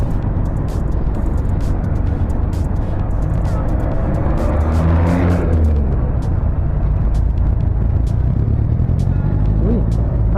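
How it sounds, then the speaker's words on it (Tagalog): Dense road traffic near Bicutan station in Manila forms a loud, steady rumble of engines, with one vehicle swelling past in the middle and sharp clicks and knocks scattered throughout. "traffic"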